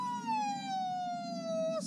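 A person imitates a police siren with the voice, one long drawn-out wailing tone sliding slowly downward, close and fairly loud, ending with a brief breathy burst.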